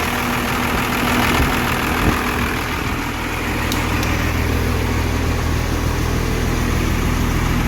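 A 12-valve diesel swapped into a Dakota pickup starts and runs, a loud, close, steady idle with a rough knocking clatter and vibration throughout.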